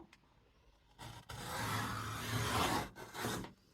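Scraping, rasping cut of a dull craft blade drawn through paper for a mini album, a rough drag lasting about two and a half seconds with a short break near the end, close and fairly quiet.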